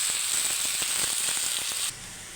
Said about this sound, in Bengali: এটা কোনো আমি ঢাকনা দিয়ে ঢেকে দেবো না, এইভাবে ভাজি করে নেব